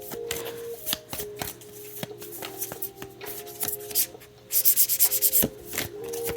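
Tarot cards being shuffled by hand nearby, with soft rubbing slides and scattered taps, then a quick run of rhythmic riffling bursts toward the end.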